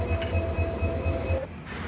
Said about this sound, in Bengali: লোকোমোটিভটি অ্যাডজাস্ট করা হচ্ছে ট্রেন বগির সাথে।